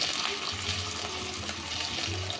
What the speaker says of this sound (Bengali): এই পেঁয়াজটা আমি ভেজে নিচ্ছি।